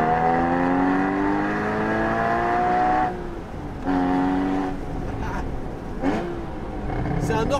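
A Porsche Boxster Spyder 981 with a 3.8-litre engine revs hard at full throttle in second gear, its rising howl climbing through several gears with brief dips between, heard from inside the car under a voice.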